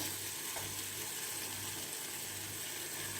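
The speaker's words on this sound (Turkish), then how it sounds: "Domates çok çabuk hemen kızaran bir gıda." Tomatoes fry in a pan for a Turkish breakfast dish, giving a steady, soft sizzle that hisses evenly throughout with no voices.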